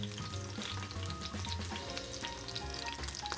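Pork gyozas frying in a hot pan make a quiet, steady, close sizzle with crackly popping and a faint low hum behind it, and no one talks over it.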